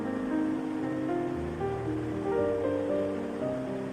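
Potatoes and a bay leaf fry in a pan for a hotel-style chola bhuna, giving a steady, even sizzle that continues close by without pause or talk.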